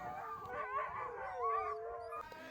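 Wolves howl in overlapping, wavering tones, with a few yips mixed in, a steady chorus at moderate distance through the whole stretch.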